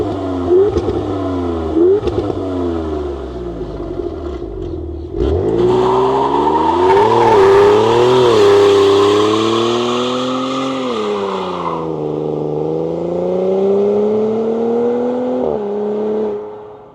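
Standard-output engine of a 2026 Dodge Charger R/T AWD sedan revving, rising and falling several times in short blips, then a longer sustained rev that holds and eases off, loud and close with no talking.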